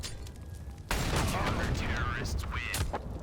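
AK rifle fire in a Counter-Strike match on the Train map, a burst of rapid gunshots erupting after a quieter stretch and continuing loud and dense, with game effects and a commentator's voice mixed in.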